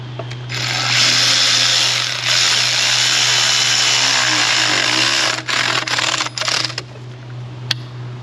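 A power ratchet or impact tool drives bolts on the upper intake and thermostat housing of a PT Cruiser 2.4 engine, a loud, close, sustained whir for several seconds that ends in short stuttering bursts and a small metallic clink.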